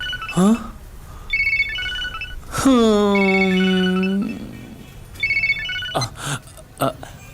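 A telephone rings in a Kannada film scene with a short electronic ringtone pattern that repeats, set between bursts of dialogue and a drawn-out vocal sound.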